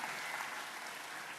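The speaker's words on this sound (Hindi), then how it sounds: "जोरदार ताली बजा करके धन्यवाद दो।" A large audience at a formal gathering in Suva, Fiji claps loudly and continuously, a dense, even wash of applause with no pauses.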